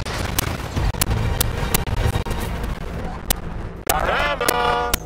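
Gunfire in the video game Suicide Squad: Kill the Justice League, dense continuous bursts and sharp cracks over a busy game soundscape, with a brief sweeping electronic effect near the end.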